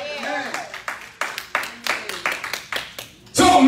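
A congregation at a church sermon claps in rhythm, a run of about a dozen evenly spaced sharp claps, ending in a sudden burst of louder cheering and applause.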